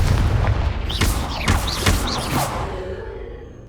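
Loud successive spell blasts from Bombarda and Confringo in Hogwarts Legacy, several booming explosive cracks in a row with whooshing tails that fade out.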